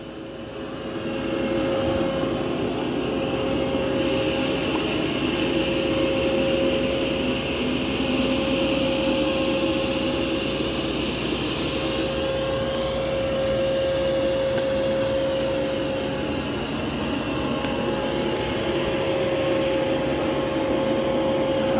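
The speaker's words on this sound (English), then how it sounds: "I do have it on its maximum suction boost." A Mova P10 Pro Gen 2 robot vacuum running on maximum suction boost gives a loud, steady whirring drone with a constant tonal whine, unbroken throughout, close by with no voices.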